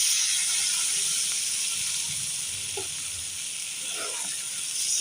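Water hits a hot pan of stirred curry fried with chili and turmeric powder and sizzles in a loud, steady hiss that holds for several seconds with faint clinks beneath.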